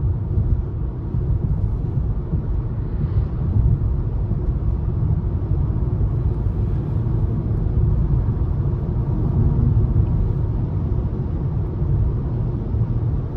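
Steady low road and tire rumble inside the cabin of a 2023 Nissan Leaf S on a smooth drive, a constant muffled drone with no engine note and no talking.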